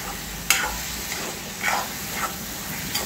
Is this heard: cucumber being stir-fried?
yes